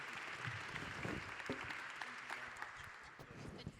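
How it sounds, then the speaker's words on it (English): An audience at a neuroscience summit applauds its panelists, a moderately distant round of clapping with individual sharp claps standing out and faint voices mingled underneath. "please give a big round of applause to our panelists"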